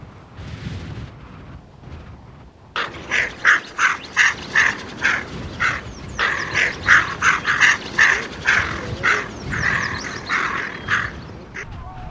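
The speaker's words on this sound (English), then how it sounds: "was alive with waterfowl, including the greater scaup and the tundra swan" Waterfowl, including greater scaup and tundra swans, call loudly and close by in a dense, rhythmic run of quacks and honks that starts abruptly and carries on without pause.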